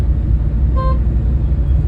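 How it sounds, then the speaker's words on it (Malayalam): A car horn sounds one short, clear honk as a warning from a car on the road, standing out over a steady drone of engine and traffic. "അവർക്ക് നമ്മളൊരു മുന്നറിയിപ്പ് കൊടുത്തു ഹോൺ അടിച്ച്"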